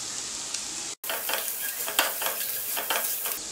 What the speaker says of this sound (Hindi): अब इसमें सूखे मसाले डाल के उनको भी 30 से 40 सेकंड के लिए सॉटे कर लेंगे